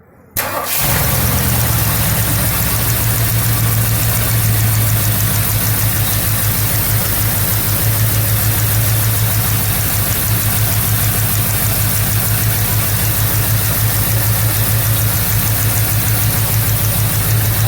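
A 1977 Mercury Marquis with a 400M V8 cranks and catches, then settles into a loud, steady idle with an even, rapid low throb and a slight ticking beat throughout.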